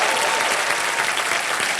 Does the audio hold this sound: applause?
yes